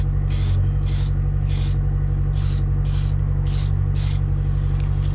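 Seven short, evenly spaced hissing bursts of Genelite rust converter sprayed onto Rover 75 car bodywork, each puff sharp and close over a steady low background hum, with no talking.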